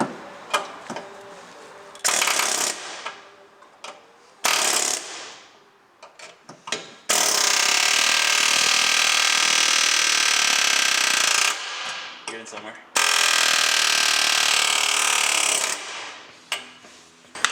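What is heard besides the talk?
pneumatic air hammer chiseling metal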